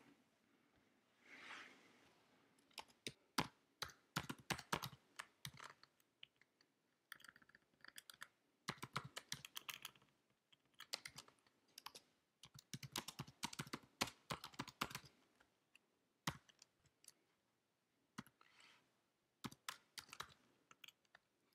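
Fast typing of code on a computer keyboard, a quiet, close-up stream of crisp key clicks in irregular bursts with short pauses between them.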